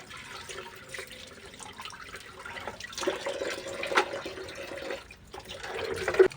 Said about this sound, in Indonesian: yang untuk terakhir kali di sini saya cuci menggunakan air mengalir